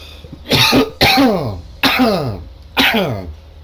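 Four separate harsh coughs sound close up, spaced roughly a second apart with short pauses between them.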